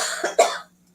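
One or two quick, close coughs from a person who is unwell, a short rough burst that cuts off into near silence.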